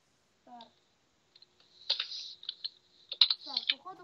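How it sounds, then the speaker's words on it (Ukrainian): Bursts of keyboard typing, quick clicky keystrokes in short runs, with a voice chattering briefly at the start and end. "дай напишу Кіт Стар хоч"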